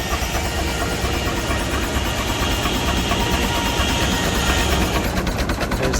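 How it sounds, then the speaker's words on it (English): A big steam engine driving a sawmill at a Florida show runs with a steady, dense mechanical rumble and hum that stays loud and unbroken throughout. "There's the steam engine that runs the Sawmill"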